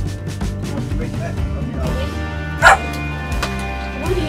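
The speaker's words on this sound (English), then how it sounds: "What are you barking at?" A dog barks a few times over a steady engine hum inside a moving RV, with one sharper bark standing out midway.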